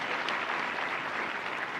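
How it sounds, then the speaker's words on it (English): Dense, sustained applause from an audience for the President of Botswana, Advocate Duma Boko, at a technical and vocational education event, steady and fairly loud throughout the short stretch. "A round of applause again,"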